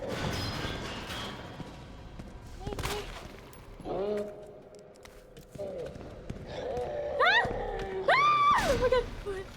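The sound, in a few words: gunshots in video game Resident Evil 2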